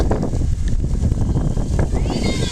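Strong gusts buffet the microphone in a loud, rumbling roar, with voices faintly mixed into the blustery noise.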